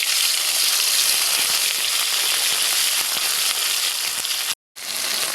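Ginger, cumin and dried chili pastes with bay leaf fry in hot oil for a vegetarian chickpea curry, a loud, dense, continuous sizzle with a brief dropout near the end.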